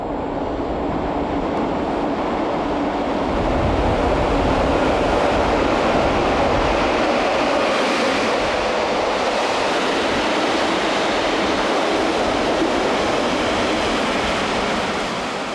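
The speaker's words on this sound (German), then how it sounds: "Aber der Zug kommt." A Rhaetian Railway train roars through a winter tunnel, a loud, sustained rumble and rushing wheel noise that swells and holds close for the whole stretch, with no voices.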